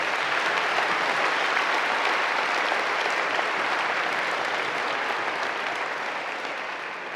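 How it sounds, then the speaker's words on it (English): Audience applause at a school Founders Day event: a dense, sustained round of clapping from a large crowd that holds steady for several seconds and eases slightly at the end. "Let's give all 4 of them a round of applause."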